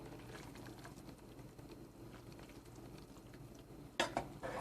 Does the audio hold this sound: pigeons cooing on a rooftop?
no